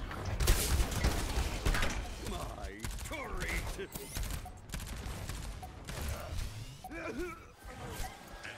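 Torbjorn's automated turret firing in Overwatch competitive play, a rapid stream of mechanical shots mixed with chirpy electronic whirs and whooshes, close and busy, with a voice briefly talking over it.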